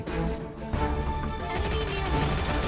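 Gunfire in the mobile battle-royale game Free Fire, a dense burst of sharp shots layered over game music and effects, loud and busy throughout.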